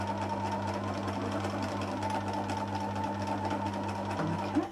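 A sewing machine stitches a beach hut pouch, its steady motor hum running continuously and close throughout with no voices over it.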